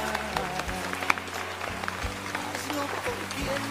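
A studio audience claps for an impersonator on an entertainment interview show, a steady patter of applause mixed with voices and background music.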